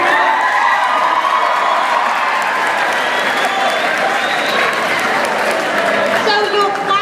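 Junior high students clap and cheer loudly at a school awards ceremony, with dense, sustained applause, whoops and shouting voices throughout.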